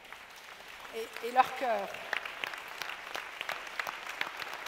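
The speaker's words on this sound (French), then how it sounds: "Je voudrais que vous applaudissiez très fort les magnifiques panélistes" Audience applause for a panel at a Lebanese conference event, a steady moderate patter of clapping running through under a man's spoken French words and a brief tonal burst near the start.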